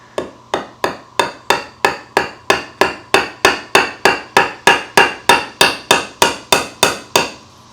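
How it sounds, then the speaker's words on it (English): A hammer taps a badly rusted nail back out of an antique Empire-style fern stand held in a vise, some two dozen sharp, evenly spaced metallic strikes ringing close and loud, each decaying quickly. "the next step is to try to tap this nail back so I can grab it and pull it out"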